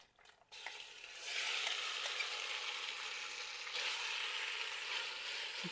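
Pork sizzles in a wok on an electric stove: a short clatter as it goes in, then a strong, steady, close frying hiss that carries on without talk.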